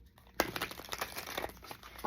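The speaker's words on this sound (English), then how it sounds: "One more good shuffle." A deck of tarot cards is shuffled by hand in a quiet room: a soft, papery riffle and crinkle that starts with one sharp snap and then rustles steadily without pause. No one speaks.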